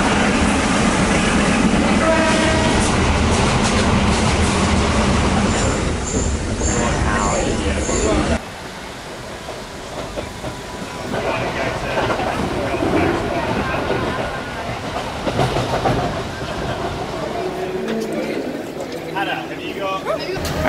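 A train rumbles along the rails in Sri Lanka toward Colombo with steady rattling and clatter, loud and close, then quieter with wind buffeting and faint noise inside.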